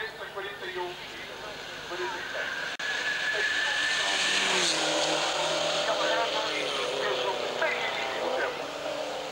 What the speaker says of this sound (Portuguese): O melhor tempo é de Miguel Arrando, o troféu BMW M3 Mobil.